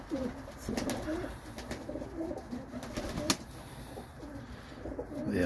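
Crested tippler pigeon in a loft, soft repeated cooing close by, heard over a low background of rustling and faint shuffling.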